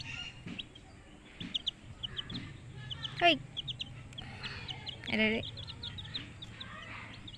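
Backyard chickens cluck and call close by, with a couple of louder squawking calls standing out over a steady low hum, while a person talks intermittently.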